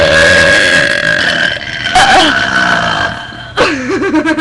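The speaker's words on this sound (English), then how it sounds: "So we gotta have a finale burp soon." A long, loud, croaking burp from a burping contest rolls on for several seconds, then a second gurgling belch rises near the end, close to the listener.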